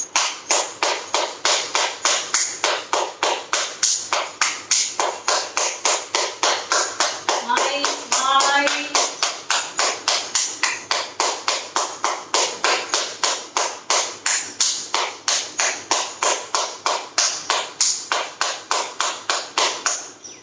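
Steady rapid hand clapping during a yoga exercise, a long even train of sharp claps at a brisk regular rhythm, loud and close, with a brief stretch of voice underneath partway through.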